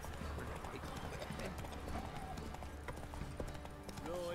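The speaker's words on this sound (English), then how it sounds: "I'm also kind of surprised that Roach is able to pull a sprint in here" Hooves of the horse Roach sprinting in The Witcher 3, a rapid clip-clop rhythm running steadily through a dense game soundscape, with a brief whinny-like tone near the end.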